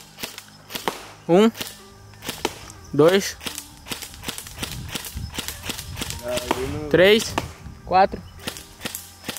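Rapid shots fired in a challenge of ten shots in ten seconds: a fast series of sharp cracks, several bursting close and loud, interleaved with people talking and counting aloud.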